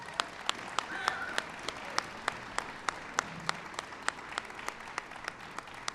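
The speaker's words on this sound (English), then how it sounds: "Please give him a big round of applause" An audience applauds General Jim Hoss Cartwright at a White House Wounded Warrior Project Soldier Ride event, a steady wash of clapping with sharp, evenly spaced claps from someone nearby standing out throughout.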